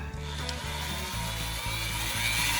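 A newly unboxed Dremel rotary tool runs steadily nearby, a continuous high whine with a low humming drone that shifts pitch slightly a few times; no one speaks.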